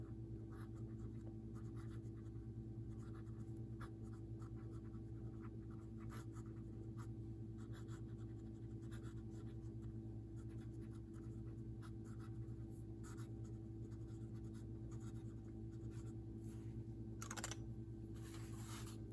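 Faint scratching of an Aurora 88 fountain pen's fine nib moving across paper in short intermittent strokes over a steady low hum, quiet and close.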